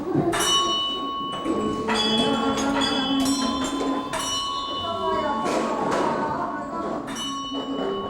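Bell on the great prayer wheel at Khampagar Monastery, Tashi Jong, a Tibetan monastery, rung repeatedly with ringing metallic strikes and sustained tones, mixed with thumps and background activity.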